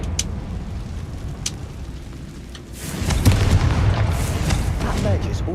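A Confringo fire spell explodes in Hogwarts Legacy, a booming burst that swells midway and rumbles on under a speaker's voice.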